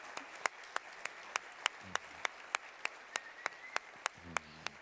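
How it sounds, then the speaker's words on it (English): Sparse audience applause at a tech conference keynote, heard as a steady series of distinct, separate hand claps spaced about a third of a second apart, moderately close and fairly quiet, with no talk over them. "Applause!"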